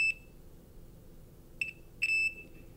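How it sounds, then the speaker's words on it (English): A household alarm gives one short electronic beep, then after a pause a second brief beep and a longer held tone, piercing and fairly close over a quiet room. "my alarm just went off"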